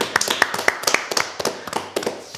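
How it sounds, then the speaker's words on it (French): A studio audience claps for a guest who has just won a fight, with dense, sharp hand claps in quick uneven bursts, close and fairly loud for a couple of seconds. "Applaudissez pour lui."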